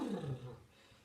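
A person imitates an elephant with a loud, roaring, trumpet-like vocal sound during a children's story time about elephants, fading over about a second.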